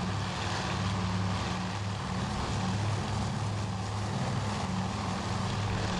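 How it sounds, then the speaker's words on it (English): Piston engines of WWII torpedo bombers drone in a game, a steady, loud, close propeller hum with a pulsing tonal throb that holds evenly throughout, with no speech. "The first torpedo bombers that got sent out."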